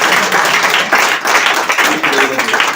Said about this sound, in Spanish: Le damos un aplauso al Señor por sus vidas.